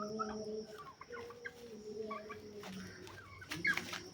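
Turkeys clucking close by in short, irregular bursts, with scattered calls from birds farther off. No talking.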